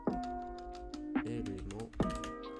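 Keys clack on a computer keyboard while typing an HTML list element during a coding tutorial, with short bursts of taps over steady tonal background sound.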